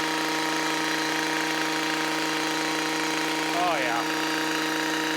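A small Stihl MM55 roto tiller fitted with bolo tines digs into garden soil, its engine droning loud and steady with a brief dip in pitch as the load changes, and someone says a few words over it.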